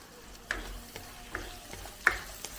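A spoon stirs chopped medium-size tomatoes and garlic frying in a pan for an egg bread masala, giving a quiet, steady sizzle broken by a few sharp scrapes and taps against the pan.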